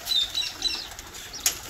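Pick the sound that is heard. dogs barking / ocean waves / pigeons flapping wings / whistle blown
pigeons flapping wings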